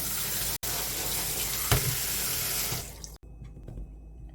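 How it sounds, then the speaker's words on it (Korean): Salted burdock root is rinsed under a running kitchen tap. A steady, full rush of water splashes for about three seconds, then cuts off to quieter dripping. "흐르는 물에 한번 헹궈주고요."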